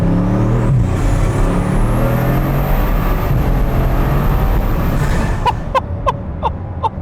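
A Bugatti Divo hypercar's engine roars loud and close under hard acceleration with a rising whine, followed by several sharp pops or clicks at the end.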